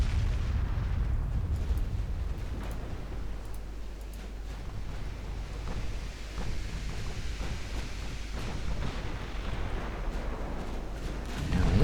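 Deep rumbling naval gunfire and distant explosions from a warship battle in Ultimate Admiral Dreadnoughts, a steady low roar with scattered muffled booms and pops, no voices.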